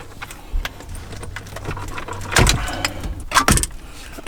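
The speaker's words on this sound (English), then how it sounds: "and remove all the plugs." Wiring plugs pulled loose from the back of a car radio during an install, a few sharp plastic clicks and rattles close by, spaced irregularly over a quiet background.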